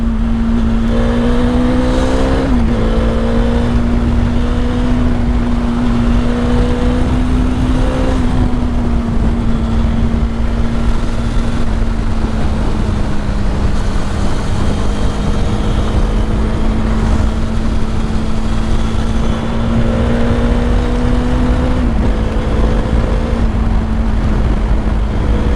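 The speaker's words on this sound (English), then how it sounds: "So let's just test the bike out." A Bajaj Dominar 400 motorcycle engine drones close and loud throughout, with a couple of brief pitch shifts as if changing gear while riding.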